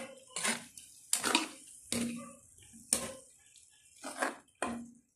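A spoon stirring adobo in a pot: a series of scraping, clinking strokes against the pot at an uneven rhythm, close and fairly quiet.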